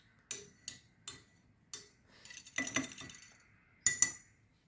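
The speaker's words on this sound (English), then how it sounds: "I'm gonna clean off my palette knife." Palette knife being cleaned, several sharp metallic clicks and taps spaced apart, a short scraping rub in the middle, then two more quick clinks, close and otherwise quiet.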